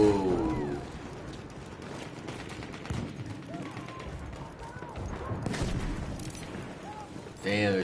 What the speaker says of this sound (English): Damn, they're throwing grenades.